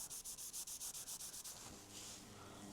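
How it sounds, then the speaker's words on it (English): Soft, light-pressure dry sanding over a deep scratch in Toyota car paint: a quick, steady run of raspy back-and-forth strokes, close and fairly quiet, that smooths into a continuous hiss toward the end. "that's why I absolutely love dry sanding, because I can see exactly what I'm doing"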